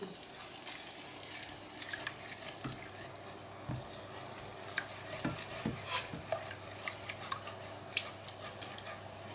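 Spring roll filling being stirred in a pan, with a steady low sizzle and repeated scraping knocks of the utensil, fairly close and alone without talk.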